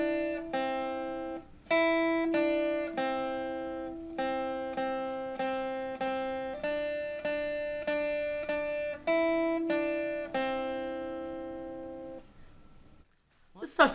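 A guitar picks out the simple Hot Cross Buns beginner exercise, a steady series of clear single notes that ring briefly in a slow, even rhythm, then stops, followed by a short rustle.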